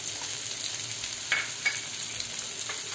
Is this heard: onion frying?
yes